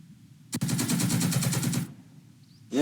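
Machine gun fire in the Second Front video game: one sharp shot, then a sustained rattling burst of about a second and a half, loud and close, followed by a brief quiet.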